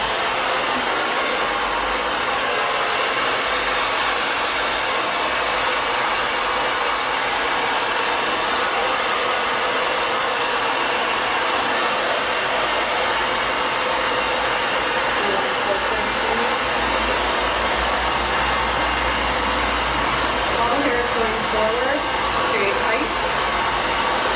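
A hair dryer blows with a steady, loud whooshing hum that runs unbroken throughout, with no voices over it.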